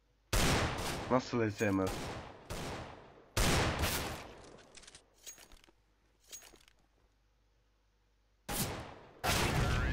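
Gunfire in Counter-Strike: Global Offensive during a 1v1 duel, loud sharp shot bursts in several clusters with gaps between them, a brief rattling volley early on, and a short spoken phrase in between.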